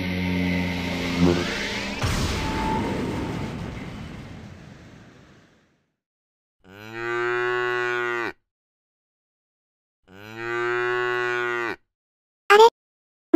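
Two long, loud cow moos, each about a second and a half, separated by silence, following a fading wash of noise and ending with a brief sharp sound.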